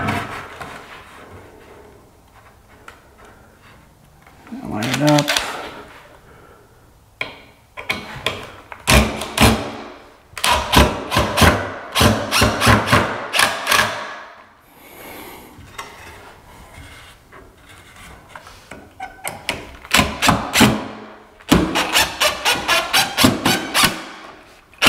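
Screws driven into a wall stud while straightening a wall for drywall: repeated bursts of rapid ratcheting driver noise, several separate runs with brief pauses between them, loud and close.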